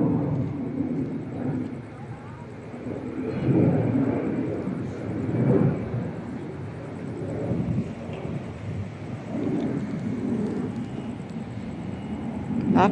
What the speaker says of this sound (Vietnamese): động cơ máy bay rất là lớn.